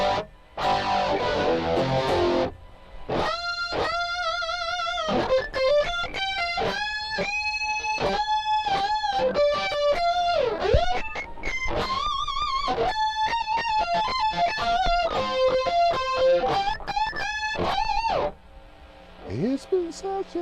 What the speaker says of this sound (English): It's just a highly compressed light chorus with a massive mid boost